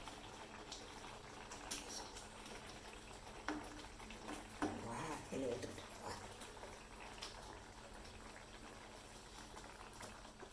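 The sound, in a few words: fried eggs simmering in boiling kurma gravy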